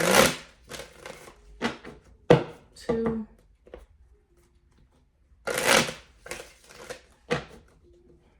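Tarot deck being shuffled in a quiet room: several sharp, close riffle bursts separated by pauses, with a soft voice counting briefly.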